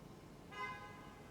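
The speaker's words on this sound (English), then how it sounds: "it's every time I hear a honk" A car horn honks outside, one short, faint toot heard at a distance over a quiet indoor background.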